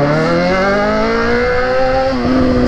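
A Yamaha XJ6 motorcycle engine revs hard and loud nearby, its pitch climbing steadily as it accelerates, dropping briefly before rising again, with no talking over it.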